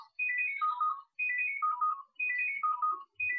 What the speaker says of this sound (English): Been interrupted by the phone, you know what, I'm not going to answer that.